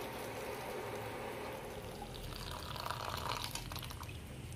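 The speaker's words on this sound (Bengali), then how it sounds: "তো এটার মধ্যে আমি গরম জল অ্যাড করব।" Hot water pouring steadily into a container in a home kitchen, a soft continuous liquid splash that brightens slightly near the end, faint and close.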